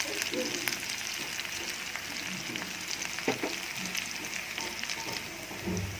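Cluster beans fry in a pan with a steady, moderately faint sizzle and occasional crackles and pops that continue throughout.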